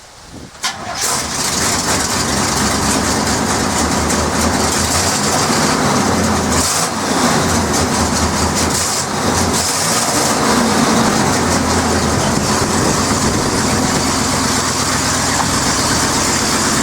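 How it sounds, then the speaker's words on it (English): A dually pickup truck with 88,000 miles starts up and runs with a steady, loud engine drone as it pulls forward, the rumble continuing unbroken and close by with no talking. "here I'll pull the truck forward"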